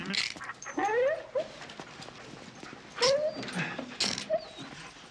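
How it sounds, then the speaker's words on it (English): A police dog whimpers and whines in a tense arrest scene, with several rising cries and yelps spread across the moment amid scuffling and shouting voices. "Get your dog off!"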